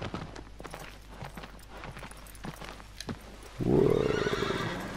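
A horse in the game Shadow of the Colossus, with brisk hoofbeats clip-clopping for a few seconds, then a loud, close whinny that rises and fades.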